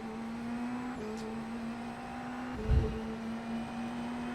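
A Dallara IL-15 IndyNXT race car at Long Beach in iRacing, its engine droning in a steady high whine that climbs as it accelerates, with a brief thump partway through and no one talking.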